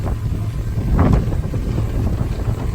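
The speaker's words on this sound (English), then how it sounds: "It's windy" Wind buffets a sailboat crossing Lake Superior in chilly, rainy weather. The gusty rumble stays steady and close, swelling briefly around the middle, with no talking.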